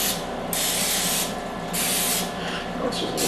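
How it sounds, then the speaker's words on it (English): Cooking oil spray hisses in three short close bursts onto chicken coated in flour and sitting in an air fryer basket, each spray sharp and breathy with brief pauses between. "you can give them a little bit extra of the cooking spray"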